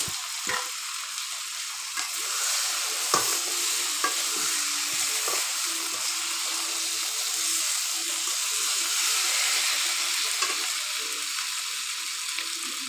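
Jackfruit kofta balls and pre-fried potatoes go into hot oil and fry with a loud, steady sizzle, punctuated by clicks and knocks of a utensil moving them around.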